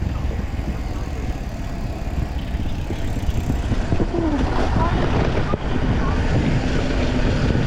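A boat motor drones steadily on the water, loud and close with wind buffeting the microphone, and a voice is briefly heard under the engine noise.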